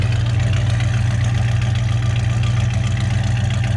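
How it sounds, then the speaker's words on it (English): A big block V8 idles with a deep, steady, lumpy exhaust rumble, close up and loud, with no voices. "Don't that sound good, big block power?"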